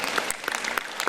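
Short burst of audience applause at a yoga session with Swami Ramdev, brisk uneven claps close and fairly loud.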